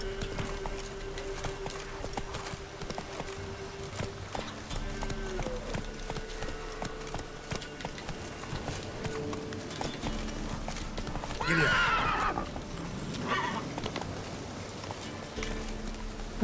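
Horse hooves clip-clop steadily in The Witcher 3, mid-distance, and a loud whinny rises near the twelve-second mark over ambient game sound with faint music.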